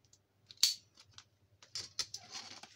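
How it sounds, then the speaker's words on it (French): Scissors snipping paper in a few separate cuts, crisp close clicks and short slicing swishes spaced irregularly, quiet between strokes, no speech. "je coupe."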